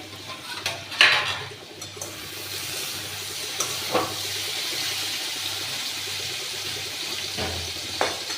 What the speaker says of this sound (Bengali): দেখুন, আমি ঢাকাটা খুলছি।